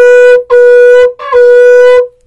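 A shofar blows the shebarim call, three short sustained blasts in quick succession with brief gaps, loud and close, alone without speech.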